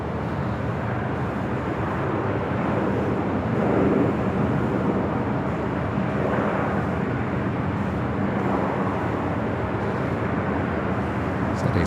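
A Boeing 787 Dreamliner takes off from runway 25 right at Los Angeles airport, heard as a steady, broad distant jet roar that swells slightly midway, with no one talking.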